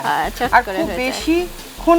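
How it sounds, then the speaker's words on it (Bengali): Giant freshwater prawns sizzle as they fry in a pan, a bright crackling hiss running beneath a person talking close by. "দেখছো ভাজা ভাজা হয়ে গেল বেশিক্ষণ হ্যাঁ।"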